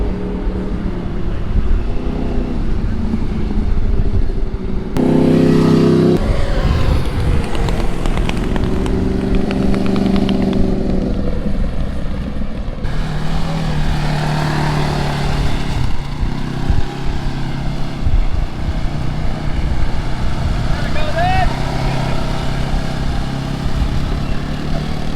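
Dirt bike or quad engine revving hard during wheelies on a lot, with loud sustained engine drone that rises and shifts pitch, mostly alone and close by.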